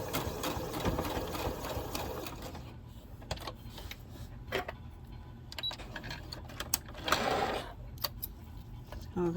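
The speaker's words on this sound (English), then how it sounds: "I'm going to bring my needle, and then I'm just going to sew" Sewing machine stitching a zipper, starting with a steady close run and then breaking into short back-stitch bursts and clicks, with a needle that skips stitches.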